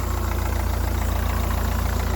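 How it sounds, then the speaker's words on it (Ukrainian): A car engine idles steadily nearby, a low even rumble with a regular pulsing beat and no voices. "звук двигуна дуже адекватний"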